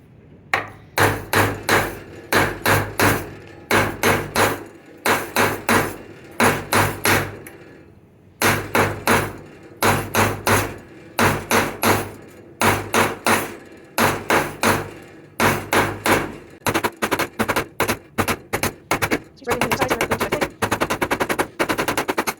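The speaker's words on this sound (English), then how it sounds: "You're basically just going to hammer it into a point until all the petals can go on it." Hammer striking copper grounding wire to shape it into a point, sharp metallic blows in rapid bursts of several strikes with short pauses, loud and close, speeding into a faster run near the end.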